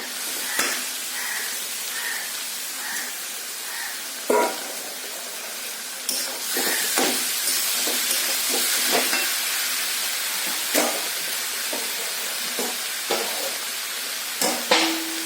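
Boiled jackfruit going into a pan of sizzling masala: a steady, loud hiss of frying runs throughout, broken by occasional knocks and scrapes of a utensil, close up.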